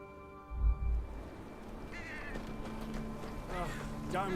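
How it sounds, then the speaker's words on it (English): Crows cawing in the Game of Thrones: Kingsroad video game, a few harsh calls rising over a low ambient game soundscape, fairly faint, with a brief thud near the start. "Damn shitting crows."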